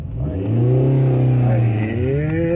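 A car engine strains and climbs in pitch as it accelerates hard uphill with the pedal held to the floor, loud and close, then eases off near the end.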